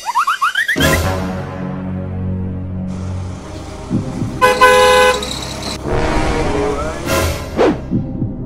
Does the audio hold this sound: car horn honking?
yes